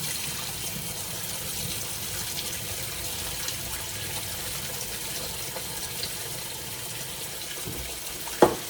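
Fresh water runs steadily into a crock pot for cooking beans, a continuous close pouring and trickling hiss with a small clunk near the end.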